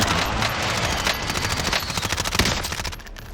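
MP5 submachine gun firing in Call of Duty: Warzone at medium range, loud rapid automatic bursts with a steady rattling rhythm that breaks into a few separate shots near the end.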